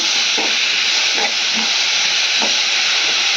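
Chopped tomatoes frying in leftover onion oil in a pan for a cowpea gravy, a loud continuous hiss with a few soft stirring scrapes spaced through it, close up and without voices.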